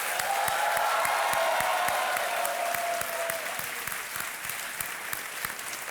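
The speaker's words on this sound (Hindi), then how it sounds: "तालियां बजती रहे देवियों सज्जनों।" A studio audience at a televised quiz show applauds steadily and loudly throughout, a dense wash of many hands clapping, with a faint tone lingering beneath in the first half.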